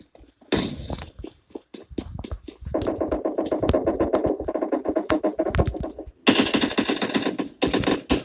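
Video game shooter gunfire crackles in rapid bursts, with sporadic single shots giving way to sustained machine-gun fire and a louder burst near the end, close and punchy.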